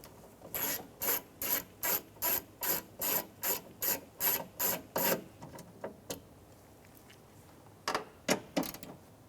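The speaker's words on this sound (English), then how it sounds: "We're going to remove our 2 10 millimeter nuts." Ratchet wrench clicking rapidly in a steady train of about a dozen even strokes, then a pause and a few scattered clicks, loosening two 10 mm nuts on the door window switch of a 2014-2019 Toyota Highlander; close and fairly quiet, no talk.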